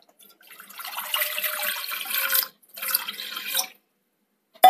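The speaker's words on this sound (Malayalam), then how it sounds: "ഏകദേശം 1/4 കപ്പ് വെള്ളം ഒഴിച്ചിട്ടുണ്ട്." About a quarter cup of water poured into a pan for making sugar syrup: two bursts of splashing pour, the first longer and the second shorter, close and fairly faint, separated by a brief silence and ending with a small knock.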